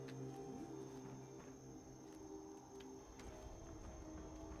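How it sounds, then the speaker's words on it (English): Cricket chirping ambience from a post-apocalyptic island video game forms a faint, steady bed of high insect trilling that runs continuously throughout. "The cricket sound in this game is actually kind of like really annoys me."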